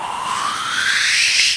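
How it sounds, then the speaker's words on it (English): A rising whoosh riser effect from a song sweeps upward in pitch for about a second and a half, loud and airy, then cuts off abruptly. "The other is what we call a riser. I usually just call it a whoosh."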